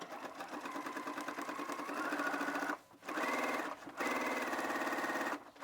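A sewing machine runs a gathering-stitch row about 3/8 inch from the top edge of a skirt front, whirring steadily and close by with two short pauses before it resumes.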